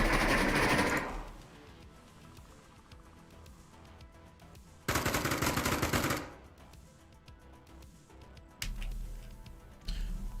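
Gunfire in a competitive video game match, sounding as loud bursts of rapid shots near the start, again in the middle and at the end, with quieter game ambience between the volleys.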